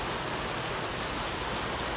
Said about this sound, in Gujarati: જુઓ અત્યારે બહુ વરસાદ ચાલુ છે